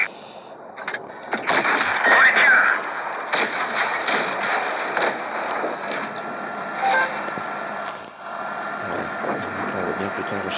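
Tank guns fire in the mobile game World of Tanks Blitz, including a Batchat B-C 25t, as scattered booming shots and engine rumble run beneath steady game noise.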